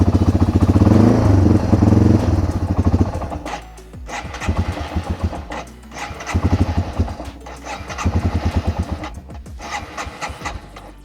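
A Yamaha TW200 dual-sport motorcycle engine sputters out as its carburetor runs dry of fuel, with a steady idle breaking into uneven, stumbling bursts before dying away.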